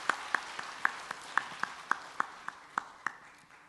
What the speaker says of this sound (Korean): 우리 박수 드리겠습니다